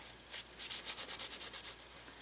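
Metal burnt by gunpowder is scrubbed with Ballistol in about a dozen quick, rhythmic rubbing strokes, each a brief soft swish close to the microphone, with no one speaking.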